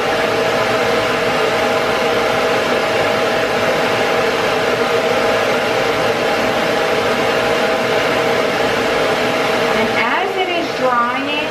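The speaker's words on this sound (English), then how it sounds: "we're going to put the dryer on" A quiet pet hair dryer blows steadily on a Shih Tzu during grooming, a continuous close whooshing roar that holds for the whole stretch and shifts briefly near the end.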